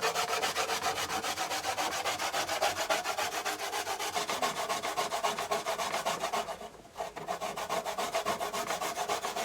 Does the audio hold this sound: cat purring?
no